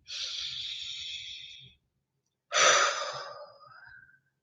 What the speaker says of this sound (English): let's take a breath in.